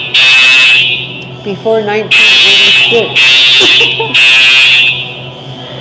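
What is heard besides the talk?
fire alarm going off in a building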